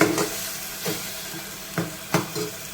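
Dry-roasting in a pan while making a spicy Maharashtrian green pea usal with homemade spices, a faint steady sizzle broken by a few sharp scraping stirs at irregular intervals.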